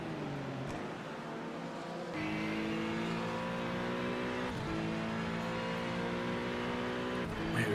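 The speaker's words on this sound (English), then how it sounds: "And that Acura just getting a little closer under the braking." An Acura race car in the iRacing game at Watkins Glen, engine note dropping in steps under braking as it downshifts, then holding steady, loud and continuous with no talk.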